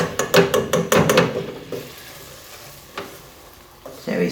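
Flour being stirred into a white sauce in a pan, heard as a rapid scraping, rattling burst up close for about a second and a half, then a quieter stretch with a few faint knocks and some renewed stirring at the end.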